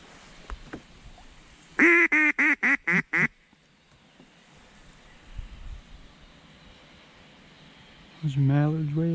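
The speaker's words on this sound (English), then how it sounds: "There's mallards way up there." Mallard ducks quacking on open water during a public-land kayak hunt: a quick run of six loud, evenly spaced quacks, a quieter stretch, then more honking quacks rising at the end.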